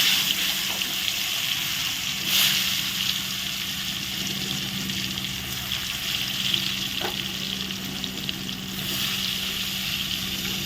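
Pumpkin and eggplant frying in hot oil, a loud continuous crackling sizzle that fills the whole stretch, close by, with a few light clicks and no voices.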